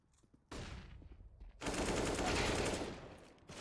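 Gunfire in the video game CS:GO during a match: a short burst of rapid shots, then a longer sustained volley of automatic fire, loud and dense.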